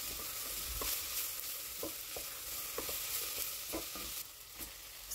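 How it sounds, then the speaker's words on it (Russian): Onion, leek, pepper and celery root frying together in olive oil over medium heat, a soft continuous sizzle with occasional spoon scrapes and taps against the pan, near and fairly quiet, no speech. "Слегка все вместе обжариваем."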